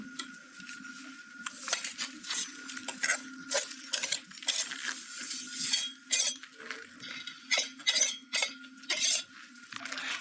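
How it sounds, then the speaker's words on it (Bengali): Egg beaten with powdered sugar in a mixing bowl for semolina biscuits, a brisk, steady clatter of a whisk against the bowl with rhythmic clinks throughout, fairly close, no talk. "আমি চিনিটা দিয়ে ভালো করে ডিমটা ফেটিয়ে নিচ্ছি"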